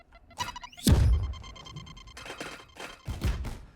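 A Raze grenade thrown on the Ascent map in Valorant, with a jump and throw followed by several separate thuds and bursts: one loud impact near one second, softer knocks after it, and another thump near the end.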